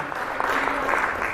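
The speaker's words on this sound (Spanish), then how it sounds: "Y el aplauso para Cristo." A church congregation bursts into a brief, dense round of applause that sounds full and close throughout.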